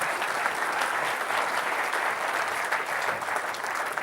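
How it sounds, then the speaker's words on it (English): Loud, sustained applause from a conference audience at the end of a two-day event, a thick continuous wash of many hands clapping without pause. "can we have a round of applause for all of the people who are still left in the audience?"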